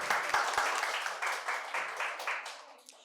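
Applause at a quiz competition prize-giving in a medical college hall, a crowd clapping in rhythmic bursts that gradually thin out and fade, with a few louder individual claps standing out.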